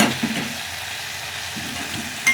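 Boiled Maggi noodles stirred in a hot pan, a soft steady sizzle of frying with brief scraping stir sounds near the start and a short clatter at the end, close and without speech.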